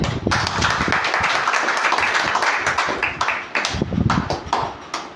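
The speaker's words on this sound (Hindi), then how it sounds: "उस बच्चे के लिए जोरदार ताली" Dense, sustained applause from an audience clapping for a child at a motivational talk, a busy wash of overlapping claps at steady loudness with a brief dip partway through.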